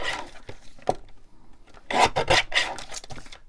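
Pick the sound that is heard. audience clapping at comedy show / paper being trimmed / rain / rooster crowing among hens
paper being trimmed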